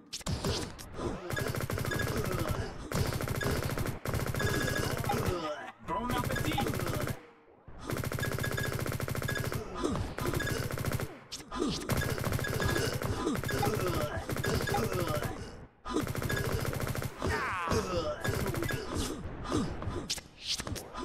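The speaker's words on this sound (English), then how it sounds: "Oh man, I get to reload the whole gun." Gunfire in the open-source online FPS game Liblast, made with Godot 4, with loud, dense bursts of rapid automatic shots and brief pauses between volleys, and a voice occasionally reacting beneath.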